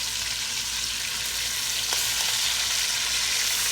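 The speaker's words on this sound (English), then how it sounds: "Just sear it off. You got that nice crust on there." Beef shoulder sears in a hot pan with a steady, close, broadband sizzle and frying hiss, constant throughout with no speech.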